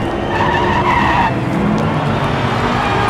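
Diecast toy race cars, a Dodge Viper among them, drifting on a miniature racing track, giving a loud continuous tire-skid hiss with a rushing whir that eases off partway through.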